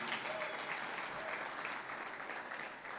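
An audience at a hall of fame weekend dinner gives a round of applause, steady, fairly faint clapping from many hands that carries on evenly throughout.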